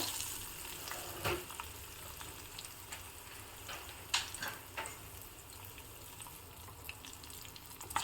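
Turmeric, curry leaves and green chillies frying in a pan in a village home kitchen: a faint, steady sizzle with a few clicks and scrapes, low and continuous with no voices.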